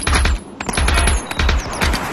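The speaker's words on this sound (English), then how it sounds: "It's a shotgun, bro." Rapid bursts of shotgun fire in the VR shooter Aim XR, several loud blasts in quick succession with short gaps, close and punchy with no talking.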